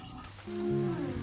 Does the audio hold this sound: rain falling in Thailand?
yes